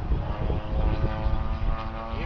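An electric radio-controlled FW-190A8 warbird model plane flies at about half throttle, its motor and propeller giving a steady droning whine with a wavering pitch, heard outdoors at moderate distance.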